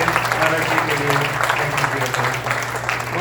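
An audience in Manila claps steadily for Maharaj ji, a dense, sustained round of applause with a voice speaking over it.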